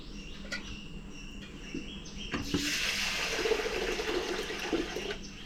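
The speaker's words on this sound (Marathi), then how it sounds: "हे तांदूळ आपल्याला असे चोळून चोळून दोन तीन वेळा असे धुवून घ्यायचे" Rice is rinsed in water: after a few soft clinks, water runs and splashes steadily close by, a continuous rushing wash with light sloshing and no talking.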